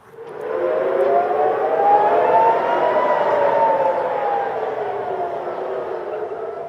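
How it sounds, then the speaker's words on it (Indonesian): A loud air raid siren wails in Tel Aviv, Israel, in one long sustained tone, swelling then slowly fading, heard from a distance across open air. "Suara peringatan sirine dan ledakan kembali terdengar di Tel Aviv, Israel pada Selasa dini hari."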